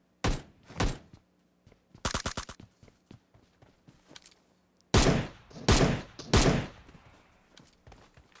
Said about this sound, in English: That sounded like a shotgun